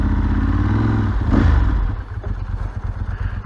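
A 29-year-old Ducati 916 motorcycle revs up loud and close, its engine rising to a peak and then dropping back to a rough, pulsing idle-like rumble.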